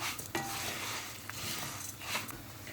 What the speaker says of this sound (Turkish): İçerisine 2 bardak bulgurumu ilave ediyorum. Aynı şekilde bulgurun da kavrulmasını sağlayacağım.